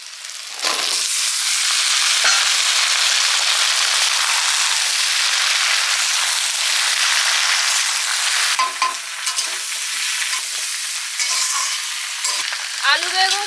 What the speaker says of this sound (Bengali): আলু সবজি দিয়ে দিচ্ছি